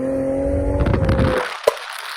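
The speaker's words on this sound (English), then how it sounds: "Let's see what it sounds like." A Hyundai Genesis Coupe V6 sounds through its exhaust, a steady engine drone with a rising whine that swells into a rough burst and then cuts off with a sharp pop, loud and close.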